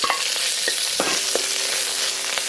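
Roast pork sizzles in hot olive oil in a pan, a steady loud frying hiss with a few scraping stirs and clinks of a utensil, no voices.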